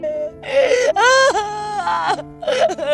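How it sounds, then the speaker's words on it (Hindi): Ghostly crying and wailing effect, tied to a haunted fort: long, wavering, moaning cries that rise and fall in loud overlapping swells, close and eerie, with no talk over them. "किसी के रोने की आवाजें"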